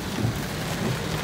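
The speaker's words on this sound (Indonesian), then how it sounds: "jadi hujan gitu" Rain pours in a constant hiss with deep rumbling beneath it, steady and unbroken, with no voices.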